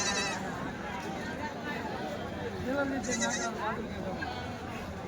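Sheep and goats bleat repeatedly at Kadiri's weekly Tuesday livestock market in Andhra Pradesh, several animals calling close by over a steady crowd murmur and background chatter.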